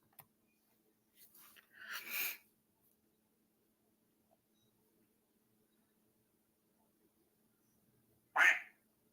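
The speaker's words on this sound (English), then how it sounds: "If you hear a quack, it's my notifications." Short quacking notification tones from a phone, two distinct quacks several seconds apart, fairly close and clear against near silence.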